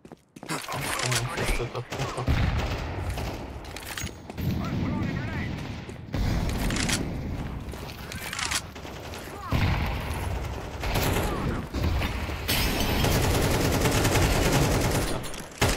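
Rapid gunfire from a video game shootout, dense bursts of shots and mechanical clatter running almost continuously and loud, with players talking over it.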